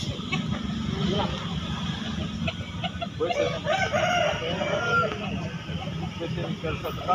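Bangkok chickens cluck and a rooster crows amid a busy market in Makassar, with people talking nearby throughout.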